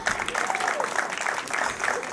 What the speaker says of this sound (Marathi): सगळ्यांनी टाळ्या वाजवायच्या आहेत.